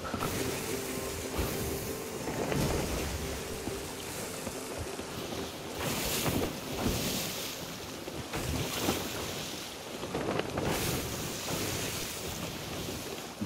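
A ship sails in the Sea of Thieves video game, with continuous ocean waves and surf washing past and wind gusts swelling and fading every few seconds, loud and close throughout.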